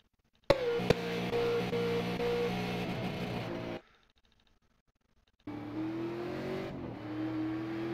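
A super late model race car engine in the iRacing sim holds a loud, steady, high drone. It cuts to near silence for about a second and a half, then returns with a rising pitch.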